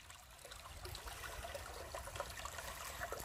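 A small valley stream flows and trickles steadily, quiet and fairly near, a soft continuous wash of water with no one speaking.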